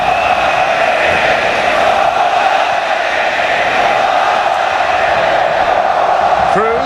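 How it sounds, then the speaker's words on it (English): A massive stadium crowd roars throughout the USA vs Argentina soccer friendly at Giants Stadium, a continuous broad wash of voices with a sustained droning tone, heard distant and enveloping. "In front of this massive crowd."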